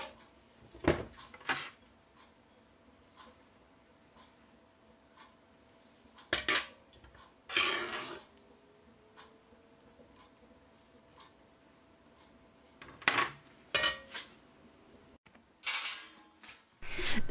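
Rice pudding is ladled into clay casserole dishes for oven baking, with sparse clinks and scrapes of ladle against the dishes separated by long quiet gaps.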